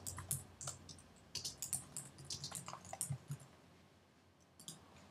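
Rapid typing on a computer keyboard, entering a new title for an invoice branding theme: a quick, uneven run of close clicky keystrokes that slows and fades toward the end, with no talking.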